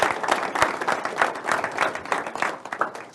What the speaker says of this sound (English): You should give yourselves a round of applause right now for that.